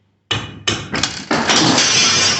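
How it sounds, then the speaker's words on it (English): After a moment of silence, a hammer strikes a bolt on a 1980 Triumph TR7's running gear a few times in quick succession, the last one ringing into a sustained harsh rattle. "I'll give it a couple of whacks with a hammer"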